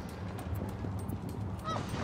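Geese at a goose farm in the Anno 1800 video game honk in a busy, dense clamor over a continuous rumbling game soundscape, with no talking.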